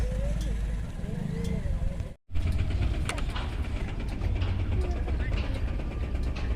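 A passing train heard as a steady mechanical rumble with rattling, clanking wheel sounds, loud and close, while people talk over it.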